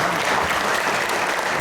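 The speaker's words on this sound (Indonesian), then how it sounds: "Tepuk tangan dulu untuk teman-teman semua." Applause from an audience of young people at a motivational talk in Bekasi, a dense steady burst of clapping filling the whole moment, loud and close.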